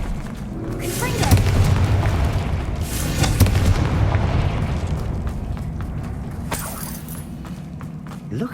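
A Confringo blasting spell exploding in the video game Hogwarts Legacy: repeated heavy booming blasts with rumbling tails, two big swells followed by sharper cracks, a voice calling out over the din.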